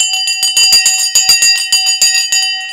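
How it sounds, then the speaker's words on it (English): A stock market closing bell rings with rapid, evenly spaced metallic strikes, loud and sustained for nearly three seconds, each hit leaving bright overlapping tones. "The bell has now gone."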